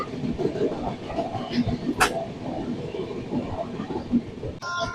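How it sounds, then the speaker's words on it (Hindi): A passenger train running past the Sampoorna Kranti Express in fog: a continuous low rumble and rattle of rolling wheels, close and steady, with a short sharp clank midway and a brief tonal squeal at the end. "संपूर्ण क्रांति एक्सप्रेस को हम लोग क्रॉस करके आगे बढ़ रहे हैं।"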